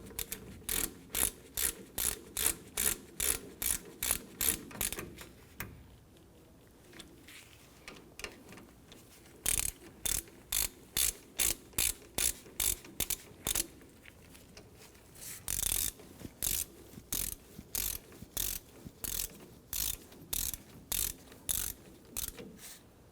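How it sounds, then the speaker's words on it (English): A ratchet with a 14mm socket snugs down rear brake caliper bolts on a 2005-2021 Nissan Frontier, giving close, loud bursts of rapid clicking in repeated strokes, with short pauses between sets and no talking. "Let's go ahead and snug down our bolts. We're using a 14mm socket for this."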